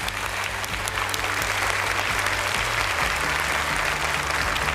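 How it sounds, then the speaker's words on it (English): Steady applause from a crowd at a science competition grand final in Singapore, dense clapping that fills the whole stretch at an even, loud level with a low hum underneath. "Big round of applause, you guys."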